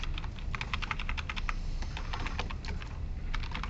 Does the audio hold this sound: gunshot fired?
no